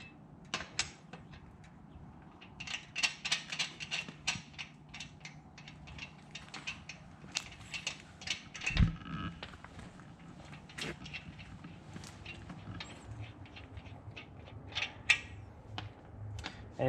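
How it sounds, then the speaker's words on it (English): Lug nuts being taken off a raised car wheel, with close ratcheting clicks and metallic clatter in irregular bursts and a brief heavier clunk partway through. "since we've cracked the lug nuts, we can now take them off since the tire is off the ground"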